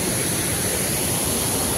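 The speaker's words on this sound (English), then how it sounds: "powerful current of water flowing all the way from there" Kanthapara waterfall running high with floodwater, a powerful current pouring down as a constant broadband roar, loud and unbroken, with no voices over it.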